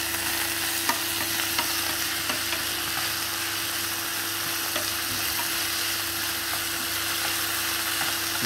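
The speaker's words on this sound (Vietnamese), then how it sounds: "Ta đảo đều tay để nó được thịt nó không chín đều, đồng thời nó cũng không bị bắn dầu mỡ lên mặt này." Chicken and sweet peppers stir-frying in hot oil in a pan, a steady loud sizzle with faint scraping stirs throughout, no talking.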